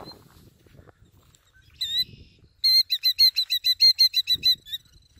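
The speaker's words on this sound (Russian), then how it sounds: "такая грозная птичка живе на таком водоеме" A bird at Quabbin Reservoir gives a brief whistle, then a rapid, loud series of about a dozen sharp repeated chirps, close and clear over quiet surroundings.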